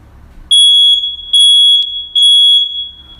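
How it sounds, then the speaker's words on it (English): Three loud, shrill electronic beeps from a smoke alarm being tested at a fire station, each lasting about half a second to a second, evenly spaced with short gaps, close by. "we need to know the sound of the smoke alarm"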